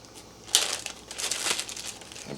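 A plastic sandwich bag crinkles and rustles close by as freeze-dried steak strips are packed into it, with a few soft crackles over about two seconds.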